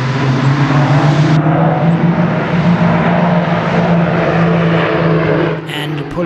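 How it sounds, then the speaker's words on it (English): South African Airways Airbus A340 airliner at an airshow, a loud, steady engine roar close by with broad rumble, softening slightly toward the end; people talk under it. "Impressing by its sheer size is South African Airways' brand new A340 Airbus."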